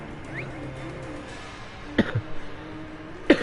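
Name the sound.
coughing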